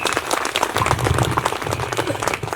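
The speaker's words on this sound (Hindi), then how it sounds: "सभी ताली बजाएंगे।" An audience at a meditation gathering claps together, a dense, steady burst of applause lasting a few seconds, fairly close and loud.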